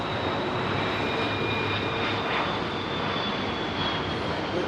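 Steady jet roar from an Airbus A330 in Level livery at Heathrow, a continuous broadband rumble with a faint high whine, holding even and unbroken throughout with no voices.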